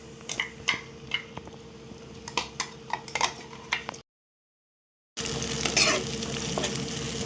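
A puréed paste of tomato, ginger, garlic and cashew sizzles in a kadai while a spoon stirs it, with rhythmic scraping taps, a brief silent gap, then louder steady frying, all close and without voices.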